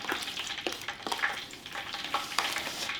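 Catfish pieces being stirred and tossed in a seasoned coating for Southern fried catfish, with steady crackling and scraping textures plus irregular stirring clicks, close and moderately loud, no talking.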